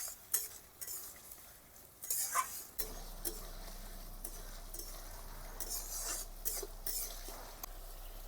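Spinach cooks in a pan with ground coriander and other spices, stirred with a utensil in scattered scrapes and clinks over a faint background sizzle. The sound is quiet and intermittent.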